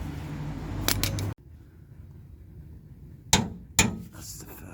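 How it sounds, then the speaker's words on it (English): A torque wrench tightens cross-member bolts on a car, giving a few sharp metallic clicks and knocks, one early and two close together near the end, separated by quiet workshop background. "Right, okay, torque wrench out then."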